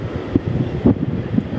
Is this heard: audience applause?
no